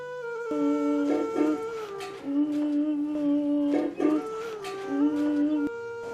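A girl sobs and wails in a high, tremulous voice, with long drawn-out cries broken by short catches of breath, close and fairly loud.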